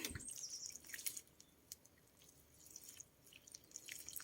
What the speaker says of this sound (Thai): เปิดน้ำใส่กระมังไว้ ลืม